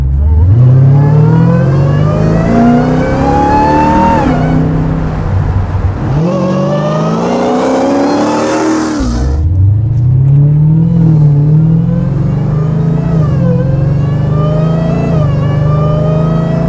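Loud Hellcat V8 engine in a 1970 Plymouth Superbird restomod revving up repeatedly with a rising high-pitched supercharger whine over the roar, close and continuous.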